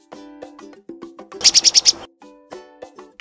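Chickadee calling outdoors, a run of five quick, evenly spaced high notes among other faint scattered chirps, with no talk.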